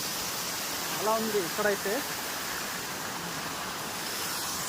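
Jodumamidi waterfall near Paderu gives off a steady, broad rushing roar of falling water that runs the whole time, with a brief stretch of people talking over it.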